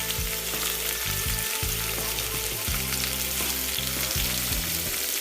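Onions hitting hot soybean oil in a pot sizzle loudly and steadily, a dense continuous frying hiss with occasional stirring bumps and a low background hum, no talk.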